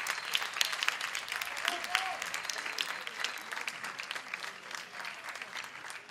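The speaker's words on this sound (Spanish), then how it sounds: "pido un fuerte aplauso para la organización" Crowd applause for the organizers at a band festival, steady scattered clapping heard from a distance at a moderate level throughout, with faint voices mixed in.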